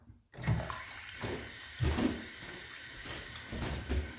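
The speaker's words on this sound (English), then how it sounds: "I just wet a washcloth and get it off" Tap water running steadily into a sink while a washcloth is wetted, a continuous close splashing hiss with soft swells as the cloth moves through the stream.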